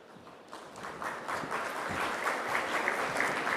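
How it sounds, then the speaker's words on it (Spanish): Applause from an energy-sector conference audience in Peru welcoming a panel moderator, starting moderately and swelling into full, dense clapping that holds steady to the end. "La vamos a recibir también con un fuerte aplauso."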